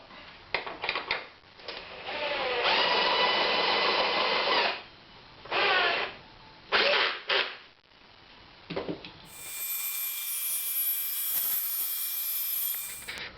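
Table saw with a homemade sawmill jig ripping along the edge of a timber board, loud bursts of cutting with short gaps between passes, then a high steady motor whine running on alone.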